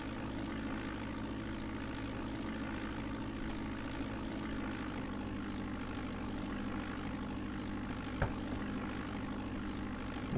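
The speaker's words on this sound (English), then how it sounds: "there's a plane taking off." A propeller airplane taking off in the Flight Simulator 4 game, a steady droning engine hum holding at an even level throughout, with one brief click near the end and no talking.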